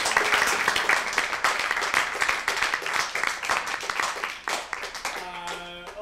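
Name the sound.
audience applause for Carl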